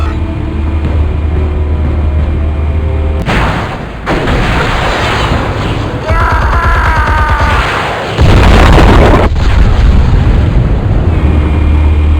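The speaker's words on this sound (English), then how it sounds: "Explosives armed. Fire when ready." Explosives detonating in Batman: The Telltale Series game audio, a series of loud, heavy booms and rumbling blasts that fill the clip, with a brief gap and a final sustained deep roar.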